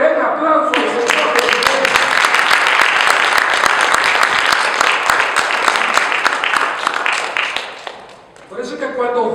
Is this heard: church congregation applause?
yes